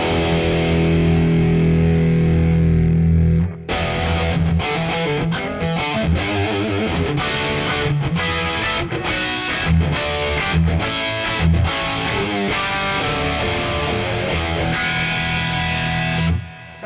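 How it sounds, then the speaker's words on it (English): An electric guitar played through Two notes exciter and twin tracker effects rings out with a sustained chord, then chops into rhythmic, heavily distorted strums with abrupt stops, loud and alone. "So I can switch on the exciter, also the twin tracker."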